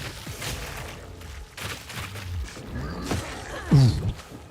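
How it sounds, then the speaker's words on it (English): A big death explosion in Path of Exile 2 from a poison and chaos gas build, a short loud burst late amid crackling combat effects and impacts. "That's a big death explosion."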